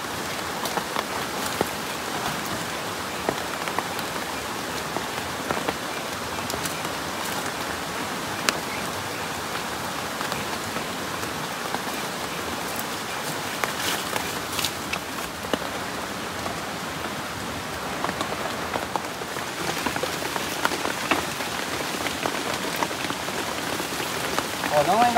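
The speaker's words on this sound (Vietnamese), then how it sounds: "những cái cảnh mưa ở trong rừng" Rain pours down in a forest, a steady, even wash of countless drops striking leaves and surfaces, close and continuous throughout with no break.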